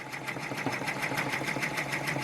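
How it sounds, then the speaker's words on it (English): Embroidery machine stitching a decorative design onto faux leather for an owl purse, a fast, even needle chatter repeating at a steady rhythm, close and moderately loud, with no voices. "Now I'm stitching the decorative designs on the front"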